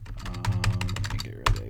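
A short run of keystrokes on a computer keyboard while a URL is typed, with quick clicks over a low steady hum and a sharper final tap.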